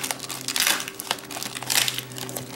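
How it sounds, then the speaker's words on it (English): Bubble wrap wrapped around a bag of aquarium plants is handled and crinkled close by, with crackling bursts coming in loose waves and no voices. "It's got bubble wrap around the bag."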